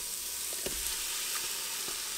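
Onions frying in olive oil in a preheated Ninja Foodi XL pressure cooker, a steady close sizzle running throughout with a few soft stirring clicks, no voices.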